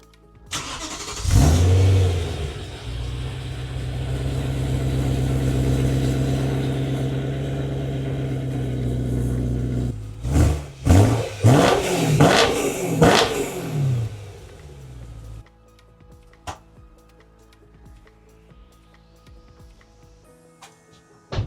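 A V8 car engine with a newly installed exhaust starts and settles into a steady loud rumble, then blips through several sharp revs before cutting off, leaving near silence.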